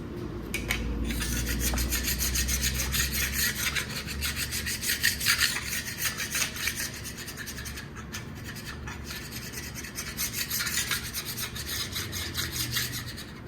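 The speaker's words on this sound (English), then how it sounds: "finish scraping that off" A scraper works gasket material off a 5.9 Cummins cylinder head in continuous rasping strokes, close and moderately loud, with a scratchy, steady rhythm and nobody speaking.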